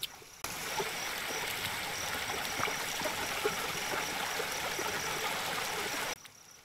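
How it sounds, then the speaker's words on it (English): Flowing waterfall in the Zoo Simulator video game, a steady rushing and trickling wash of water that starts abruptly, holds even and fairly close for about six seconds, then cuts off, with no talk over it. "I can hear the waterfall next to me"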